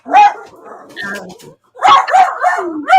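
A pet dog barks and yips in a few loud, close bursts with short pauses between them, mixed with some vocal sounds indoors.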